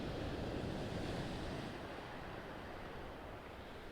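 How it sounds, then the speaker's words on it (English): Sea waves break and wash on a choppy shore in steady, continuous surf, loud and close, with wind buffeting the microphone and no voices. "But it's just the waves."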